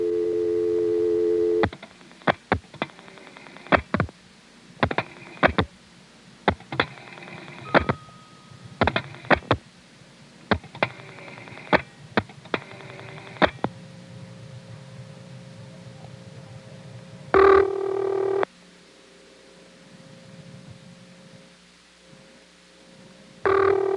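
A telephone call through a step-by-step switch in Prince William County, Virginia: the line clicks and clacks through switching equipment in bursts, then a steady tone sounds, followed by a quieter hum and a final buzz.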